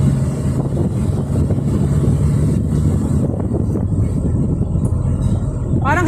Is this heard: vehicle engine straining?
yes